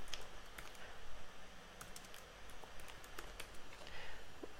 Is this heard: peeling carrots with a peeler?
no